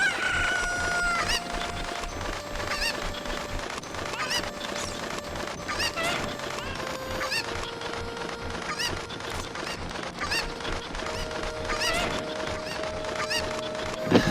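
Video game chickens in Zelda: Ocarina of Time cluck, squawk and crow in a busy, overlapping flock, steady and moderately loud, with tonal game music tones running underneath.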